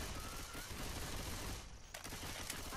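Gunfire in the video game Left 4 Dead 2, a dense rattle of rapid shots filling the moment, briefly dropping out before resuming, heard moderately loud with no clear talk.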